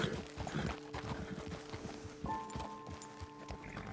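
Horse hooves clip-clop in a Red Dead Redemption 2 game scene, a steady rhythm of close hoof beats on the ground with a soft snort, over a faint background of tonal music lines.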